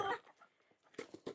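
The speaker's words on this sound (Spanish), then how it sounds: "Miren este gallo, ¿ah?" A rooster on a farm gives several short clucks in quick succession, fairly faint and close, with a brief sound before them.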